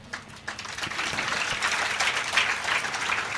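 An audience at a Mahabharata discourse claps together, a dense rustling patter that starts softly and builds into steady, fairly close applause.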